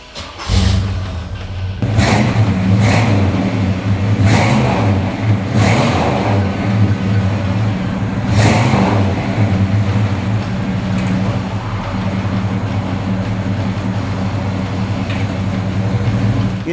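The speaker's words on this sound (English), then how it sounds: "how about I start it for you so you can hear the rumble of the" A 455 big-block V8 in a 1971 Oldsmobile 442 convertible cranks, catches and settles into a deep, loud, steady rumbling idle, with a few sharp revs early on.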